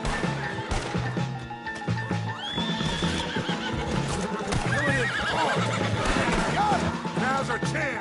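Horses in the video game Red Dead Redemption whinny and neigh repeatedly over a steady clip-clop of hooves, with dense action noise and occasional crashes throughout.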